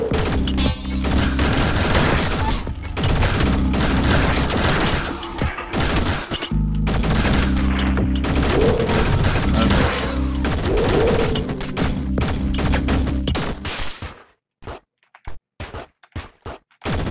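Rapid shotgun blasts from the Downwell game fire in a relentless stream over a pulsing chiptune track, loud and close, then the music cuts out and a few sharp isolated shots finish.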